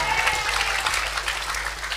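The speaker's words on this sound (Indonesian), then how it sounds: "Tepuk tangannya mana?" Crowd applause at a wayang santri shadow-puppet performance, a dense, continuous patter of many hands clapping over a low steady hum, fairly loud and even throughout.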